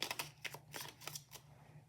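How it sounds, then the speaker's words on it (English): Tarot cards are shuffled and riffled by hand in a quiet room, a few quick crisp flurries of papery flicks and taps, faint and close, with no talk. "Not even letting me shuffle much before they're taking the cards out here."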